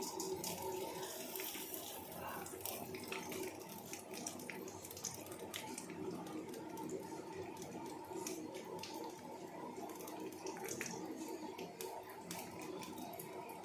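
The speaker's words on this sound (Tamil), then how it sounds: "கடுகு நல்லா பொரியட்டும்" Mustard seeds splutter in hot oil in a pan for an egg and plantain gravy, giving a faint, steady crackling hiss with dense tiny pops throughout and no voices.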